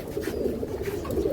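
Pet pigeons cooing in a loft, soft repeated throaty coos close by, running continuously with no voices.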